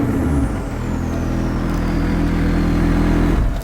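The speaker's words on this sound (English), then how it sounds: "listen to the sound of a 600 LT that is heavily modified" A heavily modified McLaren 600LT supercharged-class engine revs hard and holds a loud, steady high-rpm roar, close and continuous throughout, with no talking.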